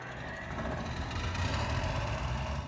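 Oliver tractor in a farming video game, a steady rumbling engine drone running continuously at even volume with no talk.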